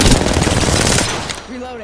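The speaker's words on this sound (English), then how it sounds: "Shots fired, and they're hitting me" Rapid automatic gunfire from an Apex Legends battle royale squad fight, a dense loud burst of shots that thins out near the end as a voice briefly cuts in.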